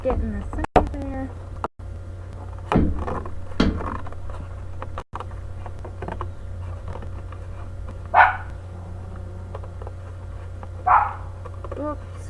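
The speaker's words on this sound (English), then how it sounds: "Oh, excuse the dog barking." Dog barking excitedly at cats, a couple of distant, fairly faint barks spaced apart over a quiet indoor background with soft crafting noises.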